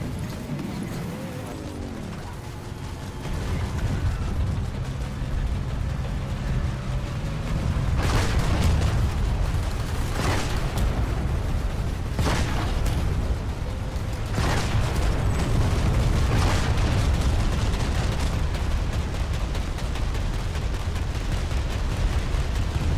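Planetside 2 turret gunfire and explosions: a dense, continuous low rumble of firing with several sharp booming blasts standing out, loud and close, no talking.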